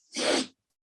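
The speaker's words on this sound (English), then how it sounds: "That sneeze, for anyone who's interested, is about 20 minutes late." A single close, abrupt human sneeze, one short burst of breathy noise lasting about half a second before silence.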